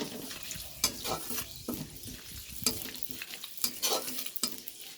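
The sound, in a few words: fenugreek seeds and ginger tempering in hot oil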